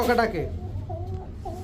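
Male and female pigeons give a couple of short, low, soft coos close by, with someone talking at the start.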